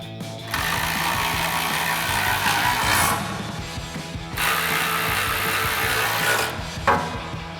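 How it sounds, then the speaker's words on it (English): A ratchet with a 4mm Allen socket runs down bolts on a rear bumper of a 2021-2025 Ford Bronco, giving long, steady close rasping ratchet sweeps that stop and restart a few times. "we'll bring in our 4mm Allen socket on our ratchet and tighten these down."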